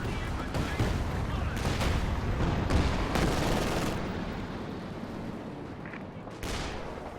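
Rocket barrage and gunfire in the strategy video game Company of Heroes 2, with dense overlapping explosive bursts and rattling shots rolling continuously at steady loudness, fading slightly toward the end.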